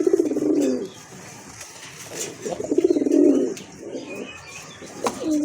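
Pigeons coo close by in a Bangladeshi pigeon collection, several throaty rolling coos in bursts separated by short pauses, with a faint flutter and a chirp, and no talk.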